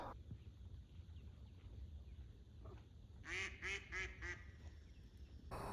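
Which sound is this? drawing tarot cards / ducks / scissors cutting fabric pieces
ducks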